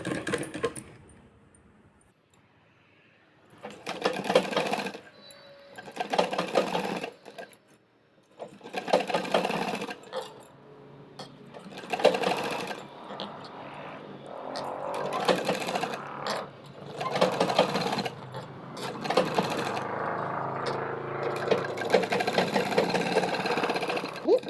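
Sewing machine stitching lace onto a blouse neckline, loud bursts of rapid needle clatter that stop and start in short runs, with pauses between and a voice talking over parts of it.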